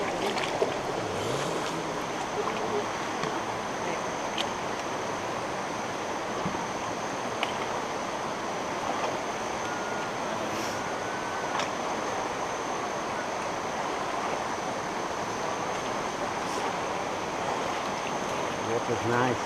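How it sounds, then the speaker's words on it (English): Water rushing through Offie Creek on the Kokoda Track as a hiker wades across, a steady broadband wash of flowing water heard close and continuous, with faint scattered splashes and no clear talk. "Adam's going across Offie Creek"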